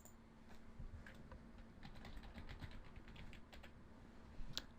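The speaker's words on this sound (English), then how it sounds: "I'm just going to type in my password now." A password is typed on a computer keyboard in a steady run of light, close key clicks that pick up speed toward the end. There is no speech.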